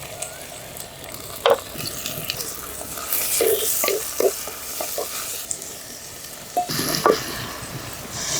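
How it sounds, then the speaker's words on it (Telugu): Vegetables and green chillies frying in a little oil in a pan, giving a steady soft sizzle with scattered stirring scrapes and clinks, heard fairly close with no talking. "ముందుగా రెండు చెంచాలు నూనె వేసుకుని ఒకదాని తర్వాత ఒకటి వేసుకుని వేయించుకుందాం బాగా"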